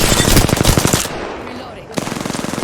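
Rapid automatic gunfire in the Apex Legends battle royale game, two loud bursts of evenly spaced shots separated by a brief lull, close and dominant.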